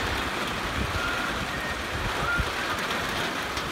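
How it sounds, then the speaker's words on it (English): Heavy rain pours down steadily and loudly, a dense continuous hiss of drops hitting surfaces with no gaps across the whole stretch. "Oh, it's raining now."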